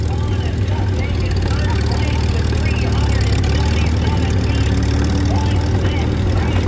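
Engine of a 47 horsepower antique tractor at a tractor pull, a steady loud low rumbling drone heard from a distance amid crowd noise, with an announcer's voice over it.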